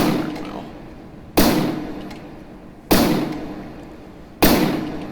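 Anti-aircraft guns in the naval combat game From The Depths fire three heavy booming shots at even intervals, each loud blast followed by a long decaying rumble.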